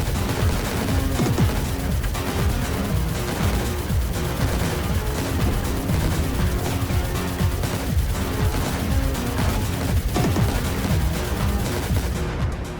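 Rapid, continuous volleys of gunfire blast nonstop while enemies are shot in the game Geometry Breakers, a loud, dense barrage with no pauses across the whole stretch.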